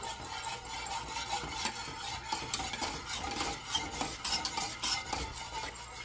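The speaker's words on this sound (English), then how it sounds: "I've been stirring it for a while" A spoon stirs non-fat eggnog in a cooking pot, giving continuous scraping and swishing strokes in a steady rhythm, close and fairly quiet, with no one speaking.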